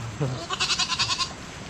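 A horned goat bleats once, a quavering, pulsing cry close by, after a short low sound.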